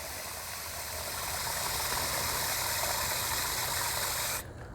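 Water pours steadily into a seedling tray for bottom soaking, a loud continuous splashing rush that runs for several seconds and then stops abruptly, with no one speaking.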